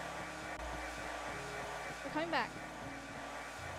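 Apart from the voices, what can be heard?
hair dryer running in the background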